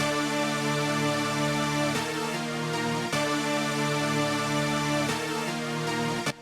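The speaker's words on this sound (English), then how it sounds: "this is basically like a fast synth melody as a chord progression" A dense, bright synth part plays rapid notes over sustained chords, loud and continuous with occasional chord changes.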